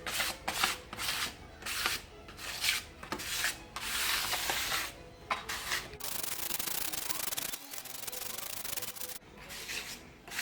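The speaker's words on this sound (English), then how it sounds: "I'll use a scraper, a big flat scraper, which is nice and flexible. And you just scoop it up" A big flat flexible scraper scoops and scrapes tile adhesive in repeated rough rasping strokes, close and fairly loud, with short pauses between passes.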